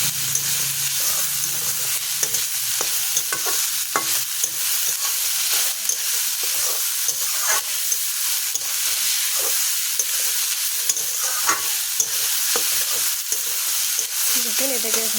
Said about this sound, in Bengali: দেখুন আমি নেড়ে চেড়ে ভেজে নিচ্ছি ভালো করে।